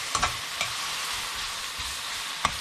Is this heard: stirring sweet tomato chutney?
yes